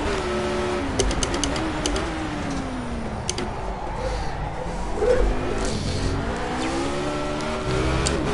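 Formula A open-wheel race car in the Project CARS racing game, engine revving high and shifting through gears in first and second with the car sliding sideways, a loud, continuous whine rising and falling throughout.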